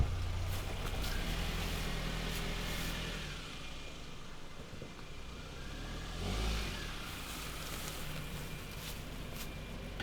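A car engine runs steadily at moderate distance, with a gentle rise in revs around the middle as the vehicle rolls in and settles, set against a broad noisy outdoor background; no one speaks.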